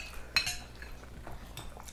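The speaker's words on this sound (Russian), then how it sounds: "Потише мешай." A spoon clinks and scrapes in a bowl of festive borscht, one sharp clink near the start followed by softer stirring scrapes, close and fairly quiet.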